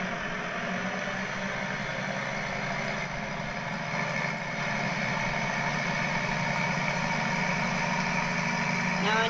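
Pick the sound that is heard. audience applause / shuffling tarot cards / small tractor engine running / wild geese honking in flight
small tractor engine running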